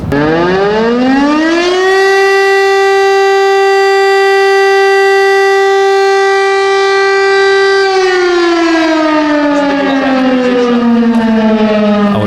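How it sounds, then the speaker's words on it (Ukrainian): A loud civil defense siren on a school rooftop on Nezalezhnosti Avenue in Chernivtsi, Ukraine, rises quickly to a steady, piercing wail, holds the tone for several seconds, then slowly winds down in pitch. "Ця сирена розташована на проспекті Незалежності на даху першої гімназії."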